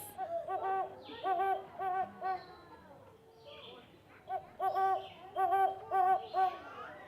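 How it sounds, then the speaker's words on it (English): A great horned owl gives repeated low hoots in rhythmic bursts, a pause in the middle, then another series, moderately near and clear, with no talk over it. "That's a great horned owl."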